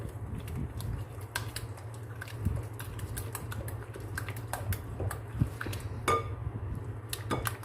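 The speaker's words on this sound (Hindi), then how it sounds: "शुगर डाल लेंगे, इसको मिक्स कर लेंगे।" Spoon clinks and scrapes against a bowl as sugar is mixed into a creamy macaroni fruit salad, with scattered sharp taps over a steady low hum and no talking.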